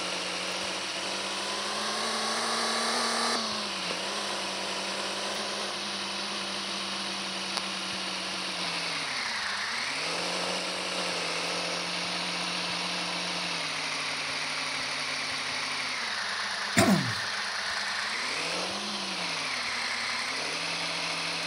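A car engine idles steadily in a driving simulator game, a low constant hum whose pitch dips and rises several times as the throttle is blipped, with a brief sharp click near the end.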